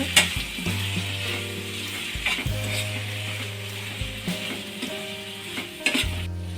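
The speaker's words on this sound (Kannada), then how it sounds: "ಇಷ್ಟು ಹಾಕಿ ಚೆನ್ನಾಗಿ ಮಿಕ್ಸ್ ಮಾಡ್ಕೊಳ್ಳೋಣ" Chicken pepper dry being stirred in a pan after pepper powder goes in: a continuous sizzle of frying with repeated scraping, rhythmic stirring strokes, close and steady, with no talking.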